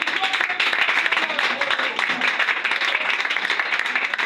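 A church congregation claps during a service, producing a dense, continuous wash of applause with voices mixed in.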